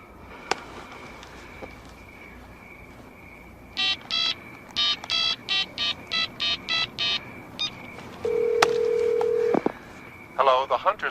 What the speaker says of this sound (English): Dial him. Come on. Dial him up.